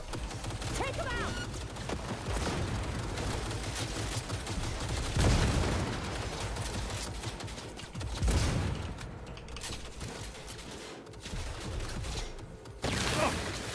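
Turrets fire in the game Cyberpunk 2077 in rapid bursts of shots with mechanical clatter, dense and loud, swelling at several points across the fight.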